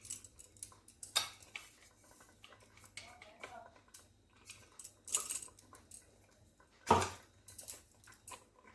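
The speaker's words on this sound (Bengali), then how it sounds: "কাজু বাদামের গুঁড়ো দিয়েও খুব ভালো করে নেড়ে নেব" Spoon scraping and clinking against a pan while stirring phirni with cashew powder, a few sharp knocks standing out over quiet background.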